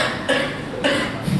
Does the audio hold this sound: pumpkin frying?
no